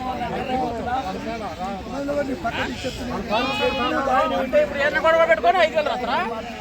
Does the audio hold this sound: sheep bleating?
yes